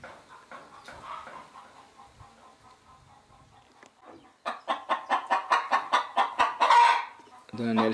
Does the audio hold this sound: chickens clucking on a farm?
yes